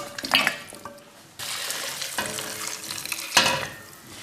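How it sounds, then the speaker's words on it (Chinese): Chicken pieces dropped into a clay casserole pot, giving wet splashing, clattering and sizzling-like bursts up close, with a few distinct tumbling impacts. "把鸡块放到砂锅里。"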